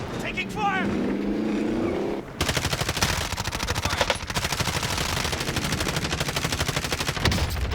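Gunfire in the video game Call of Duty Warzone: after a voice speaks over the game's background noise, rapid automatic shots erupt in a dense, regular stream of loud cracks that keeps going to the end.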